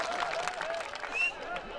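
Crowd at a village wrestling fair applauding, a soft, fairly distant patter of clapping with faint voices and a brief whistle-like tone.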